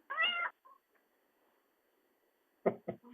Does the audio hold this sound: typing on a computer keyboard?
no